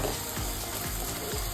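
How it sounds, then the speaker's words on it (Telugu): Mint paste frying in oil for a pulao, a steady close sizzle with a few soft scraping stirs, no voices. "ఆయిల్ మంచిగా పైకి వచ్చేసిందండి. మంచిగా ఫ్రై అయిపోయింది పుదీనా పేస్ట్."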